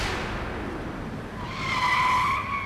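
A car brakes and comes to a stop with a brief, rising tyre squeal over the road noise, heard close and moderately loud, with no talking.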